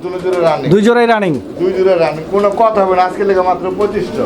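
Two pairs of Afshan grizzle fancy pigeons at a pigeon farm coo in close, rolling, repeated phrases, loud and near, with a human voice talking among the calls.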